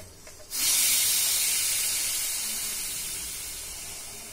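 A sudden loud burst of steam hisses from a pressure cooker pot as its pressure is released, starting sharply and then fading slowly in a steady spray.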